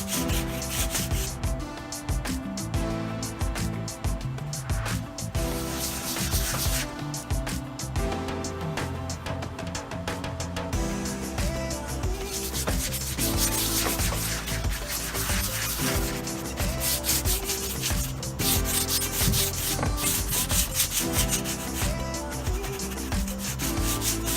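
Rag rubbing melted Briwax into rough salvage timber, a steady, loud, continuous scrubbing and scraping with rhythmic back-and-forth strokes, close up and without talk.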